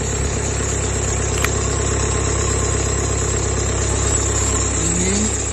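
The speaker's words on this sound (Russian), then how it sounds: "Заводится хорошо. Завели машину." Steady close car engine idling with a low even drone, a brief click early on and a slight rise in pitch near the end.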